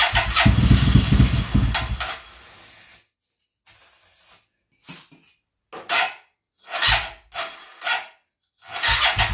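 A motorcycle engine run on butane gas sputters and hisses through start attempts: a loud burst at first, then silence broken by short, uneven coughing bursts, heard close with no talking.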